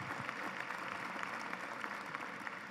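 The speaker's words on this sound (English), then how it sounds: "let's have a round of applause for our athletic director" Audience applause for a university athletic director at an athletics announcement, a steady, moderately distant crowd clapping that continues evenly throughout.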